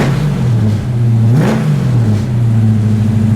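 A 1972 car engine revving close by, a steady throaty drone that swells in one quick blip near the middle and settles back, loud and unbroken, no talking.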